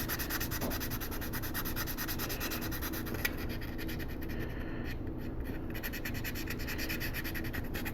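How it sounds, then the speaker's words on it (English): A 3D-printed quarter-scale Punisher figure kit is sanded lightly to smooth away print lines. The rubbing is soft, steady and continuous, close by, with no talking. "So I'm just going to do a light sanding."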